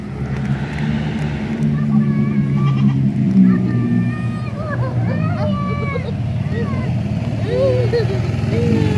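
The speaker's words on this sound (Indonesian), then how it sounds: "Kambingnya banyak." Several goats bleating on an Indonesian street during stray cat feeding, repeated wavering calls close by over a steady background rumble, with people talking throughout.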